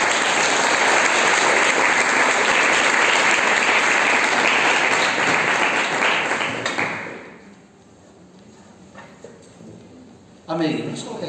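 Church congregation applauding at a Portuguese-language worship service, dense continuous clapping for about seven seconds that then fades out, with a short burst of sound near the end.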